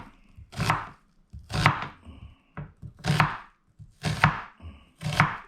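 Onions chopped on a board for Filipino pork sisig, heard as about six steady, close knife strokes with short gaps between them and no talking.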